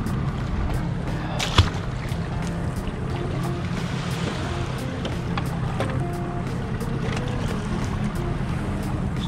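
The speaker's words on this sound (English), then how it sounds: "Trolling motor can't hold us." A fishing boat with a Minn Kota trolling motor sits on open water, with a steady wash of motor and water noise and a few faint knocks and splashes throughout.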